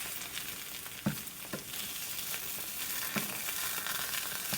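An egg fries in a small pot with a continuous, moderately loud sizzle, broken by a few soft taps and scrapes of a utensil. No talking.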